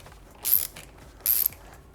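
A frame slider bolt for a 2017+ Kawasaki Ninja 650 / Z650 is driven into its nut, giving two short, loud bursts of ratcheting clicks separated by a brief pause, close up with no talking.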